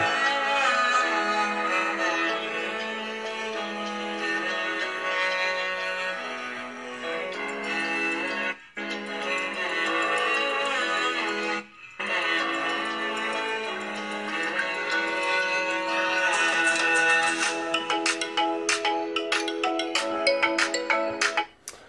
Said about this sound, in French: on va écouter le son du haut-parleur, tout simplement